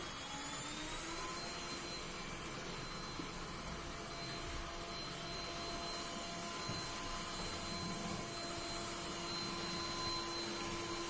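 A Yeedi Vac 2 Pro robot vacuum running at maximum suction gives off a steady, even whine and rushing airflow hum. It stays fairly quiet and constant throughout, with no speech.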